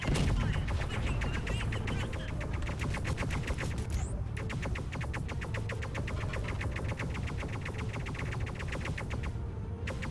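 Enemy ships in the space game Underspace fire at the player in sustained rapid-fire bursts, a fast regular chatter of shots that runs almost without pause, with one brief break partway through.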